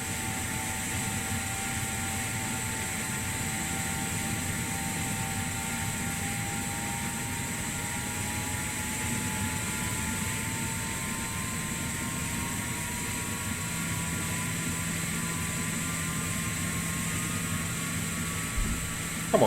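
A KLM Airbus A330 engine spools up during pushback in a flight simulator, a steady broadband roar with a slowly rising whine that climbs throughout, joined later by a low constant hum, heard alone without talk.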